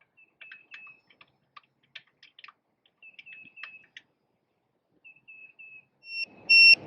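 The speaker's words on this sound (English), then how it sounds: "this will go into alarm saying that there's low pressure" A tire pressure monitor gives a series of thin electronic beeps and chirps in uneven bursts, then ends in a louder, sustained low-pressure alarm tone over a rush of noise.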